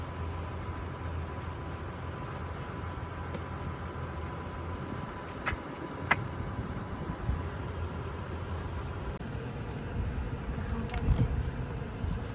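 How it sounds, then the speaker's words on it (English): Flies buzzing around outdoors in the mountains on a hot day, a steady low drone with an insect whine that persists throughout, some passes closer and louder, with no talking. "These massive flies. They're so annoying."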